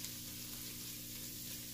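Spices roasting in a pan over a low flame for a mutton roast, giving a steady, soft, continuous sizzle with no talking, close and even throughout.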